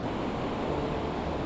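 Steady rushing wash of moving water around an abandoned shipwreck, a dense continuous surf-like roar with no pauses or voices.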